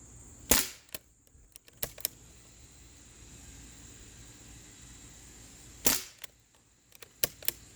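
A CO2-powered Umarex Ruger 10/22 air rifle fires .177 pellets outdoors, giving two sharp pops several seconds apart. Each pop is followed by faint clicks and handling noises against a quiet background.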